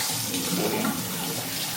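Tap water runs steadily and close by in a home during a morning routine, a continuous hissing splash with no voices over it.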